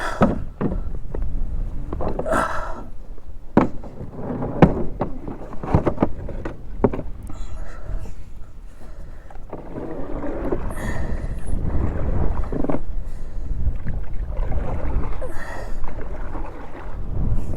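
A small boat is paddled across a pond outdoors, with repeated splashing strokes and water sloshing close by, mixed with gusts of wind buffeting the microphone.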